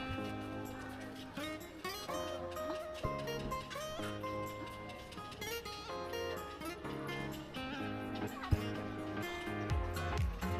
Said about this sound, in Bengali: অসংখ্য পাখি, রাজহাঁস থেকে শুরু করে সব।